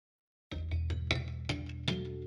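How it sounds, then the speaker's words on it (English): A Rhodes electric piano captured by a microphone placed above the harp, playing a short run of about six struck notes with bright metallic attacks over a warm ringing low body, close and clear with no talking. "that's a microphone above the harp."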